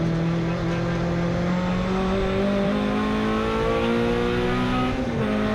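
A 750 Motor Club hot hatch race car engine drones loudly and continuously at Brands Hatch, its pitch climbing and dipping through gear changes, with no voices.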